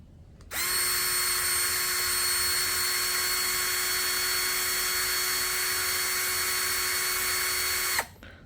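A DCA ADJZ2035i cordless impact drill runs in plain drilling mode at first gear, a steady high motor whine starting abruptly, holding for about seven and a half seconds, then cutting off.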